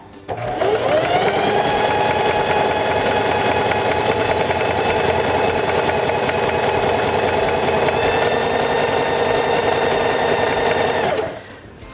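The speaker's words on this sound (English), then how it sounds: "and begin sewing again" A Singer 4411 heavy duty sewing machine stitching fabric runs steadily and loudly for about ten seconds, a continuous close whirring hum that starts abruptly and cuts off near the end, with no talk over it.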